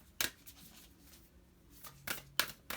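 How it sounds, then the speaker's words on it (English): A tarot deck is shuffled and cut in a few quiet bursts, soft riffling slaps of cards separated by short pauses, close but faint, with no talking. "I'm going to need to cut the deck"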